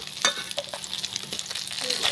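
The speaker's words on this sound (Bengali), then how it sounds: "দুই পাঁচটাই একদম লাল লাল করে আমি ভাজে নিচ্ছি।" Pieces of fish frying in hot oil in a wok, giving a continuous crackling sizzle with scattered sharper pops and spatters throughout.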